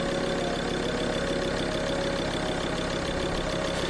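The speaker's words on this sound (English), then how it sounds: "With the engine running" A Ford Ranger diesel engine idles steadily with a continuous, even rumble and no break across the whole stretch. The sound is close and constant, and no voices are heard.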